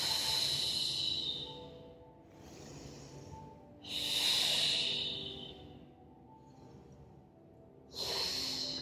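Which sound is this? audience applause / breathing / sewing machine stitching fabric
breathing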